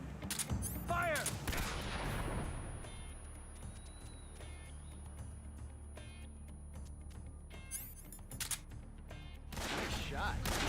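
Gunfire in Metal Gear Solid 3 during the Ocelot boss fight, with bursts of shots at the start and near the end, fainter scattered reports through the middle, and game effects and speech mixed in.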